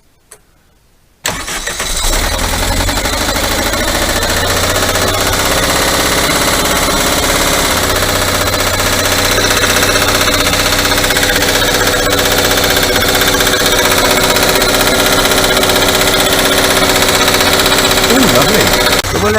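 Air-cooled VW 1.6 engine catching after a start, then idling loud and steady close by for the rest of the stretch, its even rumble rising slightly as throttle is added toward the end.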